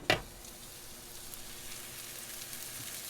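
Squash sizzles softly in a hot skillet, a quick stirring scrape at the start giving way to a faint, steady crackle with no voices.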